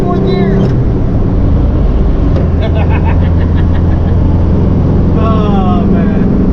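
The engine of a 1961 Volkswagen with a manual transmission drones loudly and steadily as it accelerates. A person talks excitedly over the engine noise from start to finish.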